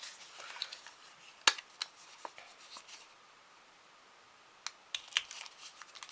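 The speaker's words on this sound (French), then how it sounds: "Moi je vais perforer avec ma perfo de classeur." A binder hole punch perforating paper, heard as a few sharp, close clicks and crunches spread across the moment, with quiet rustling in between and no talk.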